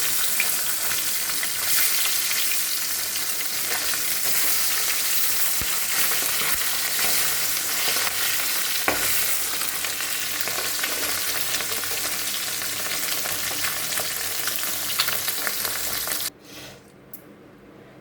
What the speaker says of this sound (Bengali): তো মাছগুলো ভাজা হোক, আলুটাও সেদ্ধ হোক